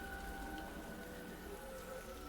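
Rain falling in a video game scene, a faint, even hiss of drops on surfaces that continues unbroken throughout with no voices.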